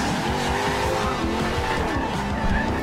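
A car drifting in the Forza Horizon 2 racing game, with a loud, sustained tire squeal layered over a revving engine, steady and close throughout.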